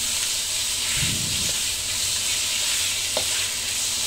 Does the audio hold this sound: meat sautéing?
yes